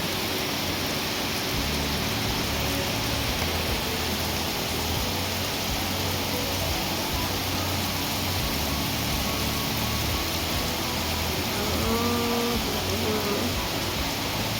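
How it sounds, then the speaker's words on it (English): Heavy rain pours steadily outdoors, a dense, unbroken hiss of drops on surfaces that stays loud and even throughout, with a faint low engine-like rumble underneath and no voices. "So much rain."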